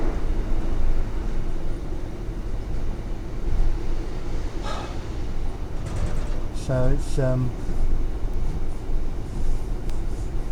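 Northern train running with a steady low rumble and rattle of the carriage throughout, heard from inside, with a brief squeal partway through and a person talking over it.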